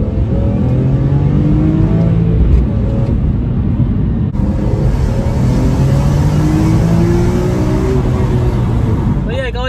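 Heard from inside the cabin, a BMW M3 E46 with an SMG gearbox accelerates hard through the gears. The engine drones loud and continuous, its pitch sweeping upward, with a brief break at a gear change. Speech runs over the engine.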